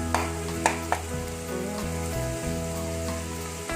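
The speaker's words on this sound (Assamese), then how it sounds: "তিনি-চাৰি মিনিটমান ভালদৰে পিঁয়াজখিনি ফ্ৰাই হৈ যাওক।" Onions frying in a pan on medium-high flame, a steady close sizzle with a few sharp crackles near the start, heard under a sustained tonal background with no speech.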